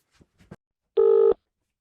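A phone call placed from a MacBook Air M1 (2020), with a few short dial-tone blips followed by one clear, loud, steady ring tone lasting about a third of a second, all close and clean with no voices.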